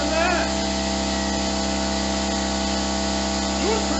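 A CUT-50H plasma cutter slices through metal with a loud, steady hiss and hum that runs without a break. Some brief tonal warbles sound near the start and end.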